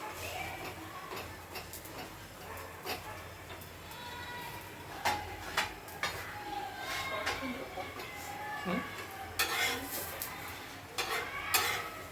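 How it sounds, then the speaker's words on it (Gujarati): Bhakri flatbread roasting in ghee on a pan gives a low, steady sizzle with light clinks and scrapes of utensils on the pan throughout. "થોડુંક ઘી મૂકી ફરીથી અને ફરીથી આ રોટલો છે એક બાજુ શેકી લેશું"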